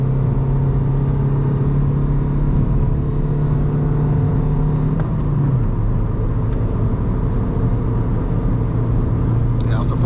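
An Alfa Romeo MiTo engine pulls at full throttle on a night drive, a loud droning cabin rumble that climbs steadily in pitch, then drops briefly at a shift before building again, with road noise throughout.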